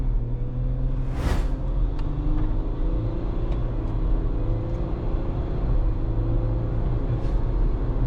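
A 2023 Ford Everest Platinum SUV with a turbo engine accelerates onto a highway, its engine drone and road rumble holding steady and continuous throughout, with no talking.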